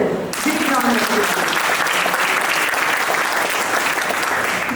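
Participants at an induction ceremony break into a loud, full round of applause that starts abruptly and continues steadily, with a voice heard briefly at the start.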